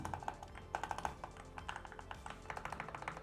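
Rapid typing on a 96% gaming keyboard with smooth mechanical switches gives a dense, close run of light clicks and taps over a low background hum.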